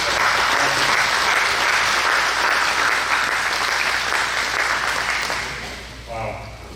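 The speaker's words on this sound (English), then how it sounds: "if we can give you a round of applause" An audience applauds warmly and steadily at a talk on World War II bomber escorts, the clapping dense and close before tapering off at the end.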